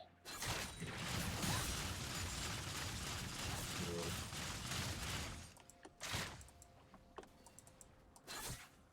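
Rapid clattering bursts of shotgun fire from Urgot in League of Legends, a dense volley for several seconds, then a few separate shorter blasts amid game effects.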